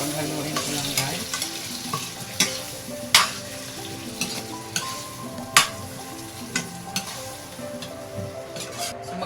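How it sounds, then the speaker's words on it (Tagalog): A pot of mung bean stew with coconut milk, vegetables and chicharon being stirred, with repeated scraping strokes and sharp taps of a spoon against the pot over a low, steady bubbling simmer. "Panghaluin ko lang guys."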